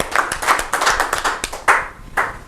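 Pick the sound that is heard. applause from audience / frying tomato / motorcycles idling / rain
applause from audience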